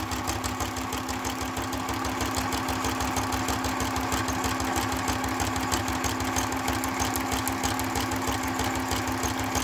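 A small, lightweight, inexpensive Janome sewing machine runs continuously while stitching hinges for an open spine journal, giving a steady, close mechanical whir with a rapid even needle rhythm and no pauses.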